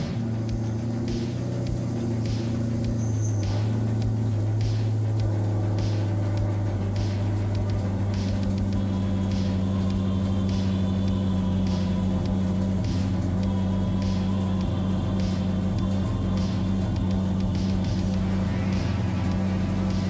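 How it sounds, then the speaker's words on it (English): A wire wheel strips plasti dip off car wheels before painting, giving a steady motorized whine and drone with a constant scratchy brushing layer that runs without a break. "So what we're doing is, you know, wire wheel. We're just cleaning up some"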